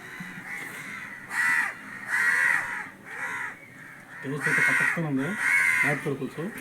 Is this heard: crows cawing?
yes